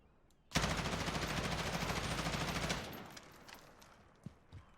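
M4 rifle with a Commando foregrip firing in Warzone: one loud, close, sustained full-auto burst lasting a bit over two seconds, followed by fading echo and a couple of faint clicks.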